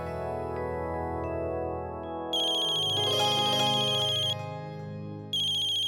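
A mobile phone ringtone plays in an Indian TV drama scene, a loud melodic electronic tune that changes pitch partway through, repeating clearly without talk.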